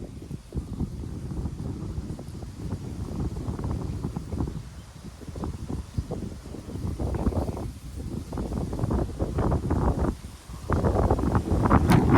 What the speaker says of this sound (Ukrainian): Ох і вітер піднімається.